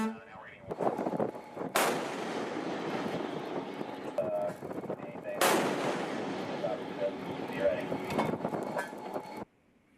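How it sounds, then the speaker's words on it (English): Two heavy, booming shots of disabling gunfire from a ship, a few seconds apart, each crashing in loud and then rumbling away into a long low roar after a warning to vacate the engine room. "We're prepared to subject you to disabling fire."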